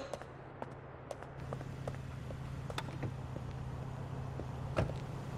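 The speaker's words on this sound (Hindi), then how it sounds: "कार में जाकर बैठ जाता हूं चलो" Car in the GTA 4 game, a steady low idling hum with scattered clicks and thumps like a door and a brief louder knock near the end, no talking.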